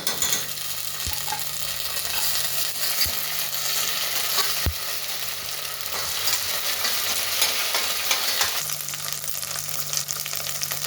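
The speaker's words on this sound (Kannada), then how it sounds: "ಅರ್ಧ ಚಮಚ ಶುಂಠಿ ಬೆಳ್ಳುಳ್ಳಿ ಪೇಸ್ಟ್ ಹಾಕ್ತಾಯಿದ್ದೀನಿ." Ginger garlic paste frying in a pan for veg pulao: loud, continuous close sizzling with a steady hiss, broken by a few sharp spatula knocks against the pan.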